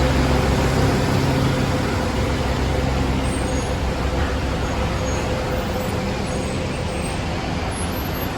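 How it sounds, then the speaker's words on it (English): Inside an airport shuttle bus running to Terminal 2 at Mactan-Cebu International Airport, a continuous low engine and road rumble holds steady and fairly loud throughout, with no talking. "This is the shuttle bus to Terminal 2."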